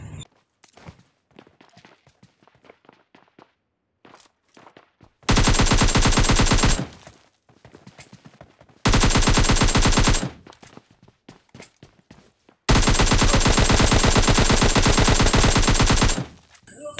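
Machine gun fire in the video game PUBG Lite comes in three loud, sustained bursts, with quiet footsteps and small movement sounds in the gaps between them.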